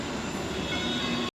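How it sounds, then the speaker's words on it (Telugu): A metro train in Mumbai rolls into a station, with a steady rumble and faint wheel squeal heard from the platform. The sound holds even, then cuts off abruptly. "మెట్రో కోసం వెయిట్ చేస్తున్నాను"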